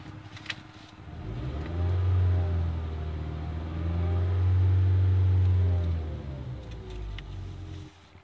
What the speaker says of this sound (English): All right, let's give it a little rev.